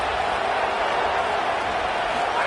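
Dense roar of a stadium crowd cheering in an NCAA college football video game, with a big third-down play coming up in a Tigers game, steady and loud throughout with no clear individual voices.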